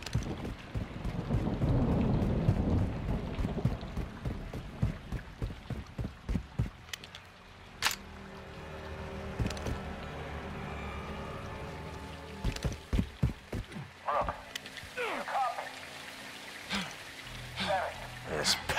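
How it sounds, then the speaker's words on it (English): Heavy rain pours in the Modern Warfare 2 video game, dense and loud at first, then thinning to a softer patter broken by sharp intermittent clicks and thuds. "It's raining fucking hard."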